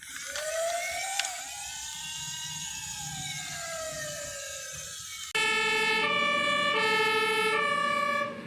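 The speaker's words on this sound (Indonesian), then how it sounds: "mobil fire rescue truck, mobil pemadam kebakaran yang dilengkapi dengan tangga, lampu sirine, dan ada pompa airnya" A toy fire rescue truck with a ladder, lights and a water pump sounds its siren, a steady electronic wail that shifts into a repeating two-tone pattern, close and clear.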